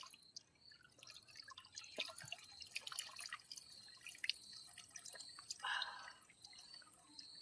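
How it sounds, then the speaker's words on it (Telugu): Mountain spring water trickling down a forest hillside, faint scattered drips and small splashes in an irregular patter, quiet and close, with no voices. "ఇది డైరెక్ట్గా కొండ మీద నుంచి అలా పారుకుంటా అన్ని మినరల్స్ టచ్ చేసుకుంటే ఇక్కడికి వస్తుంది."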